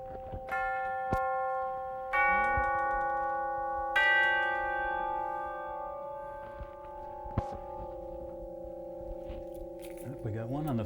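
A single chime bell from a Kimball theatre organ in a ballroom rings with a sustained, slowly decaying metallic tone, struck again a couple of times, with faint clicks and handling noises around it.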